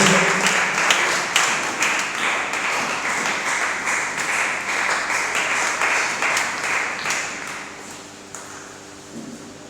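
A church congregation applauds in a dense, loud burst of clapping that starts strong and slowly thins out over several seconds, heard up close with no clear voices.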